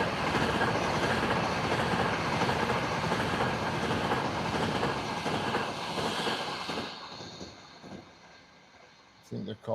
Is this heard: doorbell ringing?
no